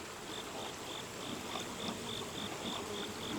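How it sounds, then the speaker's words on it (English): Honey bees swarming around an open hive, a steady dense buzzing drone that fills the whole moment, close and continuous with no talking. "Oh, that's a lot of bees."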